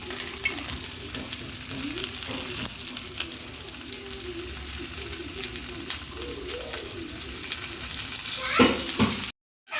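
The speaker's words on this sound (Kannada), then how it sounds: "ನಾಲ್ಕು ಮೀನು ಒಟ್ಟಿಗೆ ಹಾಕಿದ್ದೀನಿ ಚೆನ್ನಾಗಿ ತವ ಕಾಯ್ದಿದೆ ಇದ್ರ ಮೇಲೆ ಸ್ವಲ್ಪ ಆಯಿಲ್ ಹಾಕೊಳ್ಳೋಣ" Four fish sizzle in oil on a hot tawa, a steady close frying hiss with crackles that runs almost the whole time, and faint birds coo in the background.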